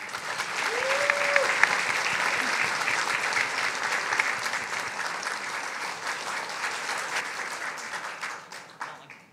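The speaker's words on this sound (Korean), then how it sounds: "다 함께 힘찬 박수 부탁드립니다" Dense, sustained applause from a large audience fills a Korea-Russia friendship evening as President Moon Jae-in and the first lady enter. It holds steady at full strength throughout and only tapers slightly at the very end, with a brief voice near the start.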